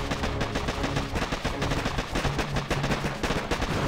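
Rapid machine gun fire in the mobile strategy game Boom Beach, dense, continuous bursts of shots rattling steadily throughout at moderate level, with no voices.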